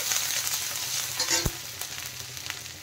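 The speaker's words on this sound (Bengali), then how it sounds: "দিয়ে দিলাম গ্রেট করা আদা। হালকা ভেজে নিতে হবে, বেশি জ্বালানো যাবে না কিন্তু।" Grated ginger and garlic sizzle gently in a hot pan, a soft steady crackle with a faint clink of a utensil stirring partway through.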